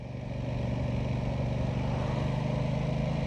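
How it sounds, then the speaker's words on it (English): A steady, even engine note from an Aprilia Tuono 660 motorcycle rolling along at low speed in 3rd gear, a smooth close drone with faint wind rush and no voices. "It doesn't surge, the engine just kind of purrs along."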